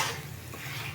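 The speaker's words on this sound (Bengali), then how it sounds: "সেটা খেয়াল রেখে মশলাটাকে আমি ভেজে নেব।" Spice paste frying and being stirred in a pan for a striped dry fish (tangra) dish, a soft steady sizzle with light scraping, close and quiet, no talking.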